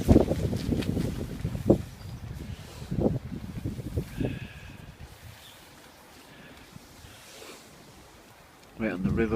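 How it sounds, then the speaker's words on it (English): Wind picks up on an exposed riverbank, a rough buffeting gust rumbling across the microphone, strong at first and then easing, with a voice speaking over part of it. "As you can see, the wind's picking up."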